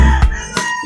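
A backyard rooster crows loudly and very close, a short strained call breaking into a second burst.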